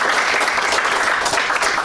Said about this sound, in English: Clap it up for that, y'all